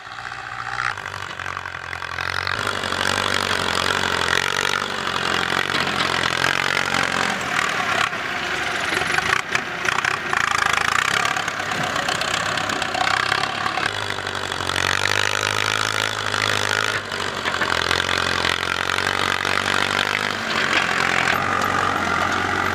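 A two-wheel tractor engine runs steadily in a rice field with hard, old soil. It makes a loud, continuous chugging drone with slight rises in revs, heard on its own.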